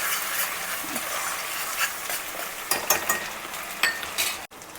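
Ginger garlic paste fries in a home kitchen pan for butter chicken, giving a steady close sizzle with occasional scraping stirs and light clinks of a utensil against the pan.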